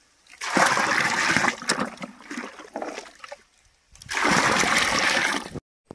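Sloshing, splashing water as a herbicide mixture is stirred up and down for weed control in sugarcane, in two loud, close bursts separated by a quieter gap.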